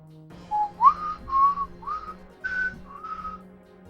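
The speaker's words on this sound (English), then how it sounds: "Can't whistle for shit. My tongue is too thick." A person whistles a short, wavering melody of about six breathy notes, close and alone against a faint background hum.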